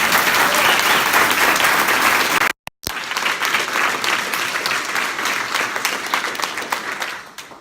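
Audience applause for hospital board members at a gift announcement event, a steady, loud wash of many hands clapping that breaks off abruptly for a moment, then resumes just as dense to the end.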